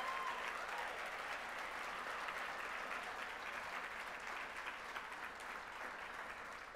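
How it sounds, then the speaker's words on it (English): An audience at an annual charity dinner applauds the organisation's executive team, with continuous even clapping from a large room that carries on steadily and eases slightly toward the end. "so you can get another round of applause"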